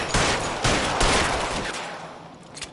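Gunfire in a PS4 shooter game, three or four rapid bursts of automatic shots with trailing echo, loud and close, fading toward the end.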